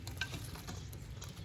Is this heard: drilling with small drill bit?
no